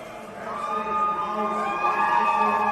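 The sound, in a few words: Swiss crowd cheering at ice climbing World Cup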